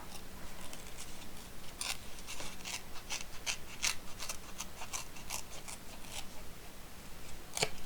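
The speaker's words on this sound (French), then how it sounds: "on va venir déchirer le haut à la même manière que ce papier-là, mais un peu plus droit" Paper is torn slowly by hand for a scrapbooking craft project, giving a steady run of small crisp rips and rasps, close and quiet, with no voice.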